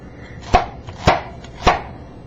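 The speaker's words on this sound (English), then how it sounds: "the onion, you just take it and cut it in like 3 or 4 pieces, and then just kind of split it in half like that" A knife chopping an onion into pieces on a cutting board for chicken stock, three sharp, evenly spaced thunks about half a second apart, close and clear with no talking.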